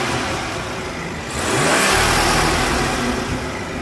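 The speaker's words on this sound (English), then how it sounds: "This is a twin scroll single turbo 3-liter inline 6." A 2016 BMW 340i M Sport with its B58 3-liter twin-scroll single-turbo inline-six idles loudly, then swells into a sustained rev that holds near the top, close and unbroken by talk.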